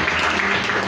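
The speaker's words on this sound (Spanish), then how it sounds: "Fuertes aplausos a ustedes quienes, de una u otra manera," Brief burst of applause at a secondary-school closing ceremony in Buena Vista, Concepción Tutuapa, San Marcos, Guatemala, honoring the students' parents; dense steady clapping fills the moment.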